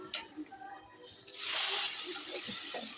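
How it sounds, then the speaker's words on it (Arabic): Water is poured into a tray of seasoned fish, starting as a sudden steady hissing splash that carries on to the end, after a few faint clicks and a short murmur of voice. "بحط بقى الميه بتاعته"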